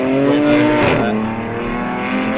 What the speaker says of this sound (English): You can hear that the next grid of cars is already running around out on the circuit.